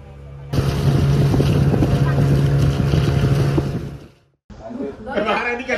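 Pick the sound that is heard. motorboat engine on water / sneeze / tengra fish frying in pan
motorboat engine on water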